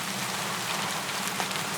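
Steady rain falls on a wartime military camp, a dense, even hiss of drops close by with no pauses and no voices.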